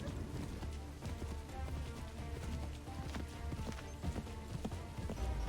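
A horse gallops in Assassin's Creed III, its hooves drumming in a fast, continuous rhythm over a dense, loud game soundtrack.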